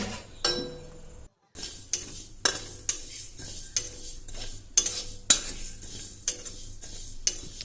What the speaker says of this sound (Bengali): যে মশলাগুলো আমি রেখেছিলাম সেগুলো এবার আমি শুকনো কড়াইতে ভালো করে ভেজে নেব